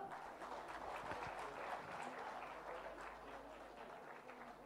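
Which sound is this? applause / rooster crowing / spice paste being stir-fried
applause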